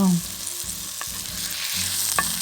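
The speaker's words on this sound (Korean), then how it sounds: "양배추의 수분만으로 저온에서 촉촉하게 잘 구워지고 있어요." A thick cabbage steak sizzles gently in a covered pan over low heat, cooking in its own moisture, with a steady soft frying hiss and a few faint clicks throughout.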